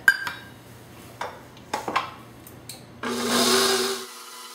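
An electric mixer whirs steadily for about a second at the end, blending egg into a Philadelphia cream cheese and sugar cupcake filling, after several sharp clinks and knocks of bowl and utensils.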